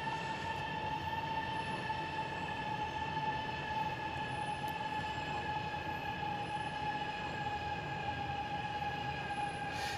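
A high-speed train brakes in the railway game Transport Fever 2, with steady high-pitched wheel and brake squeal tones over a constant rumbling rail roar, unbroken for the full stretch.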